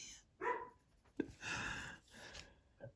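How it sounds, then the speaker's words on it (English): An indoor pet dog gives a few faint, short barks in separate bursts, quiet and slightly distant against a hushed room. "I never realized how much he barks throughout this day"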